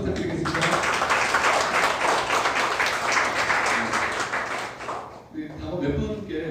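A crowd at a Democratic Party members' meeting in Jeju applauds a candidate, with dense, loud clapping that keeps going for about five seconds before fading out as a voice returns.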